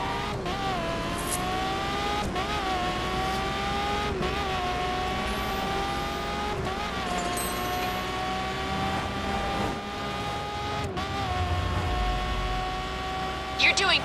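A V4 car drives in The Crew on PS4, its engine holding a steady whine that climbs and drops with several gear shifts, loud and continuous under occasional game chatter.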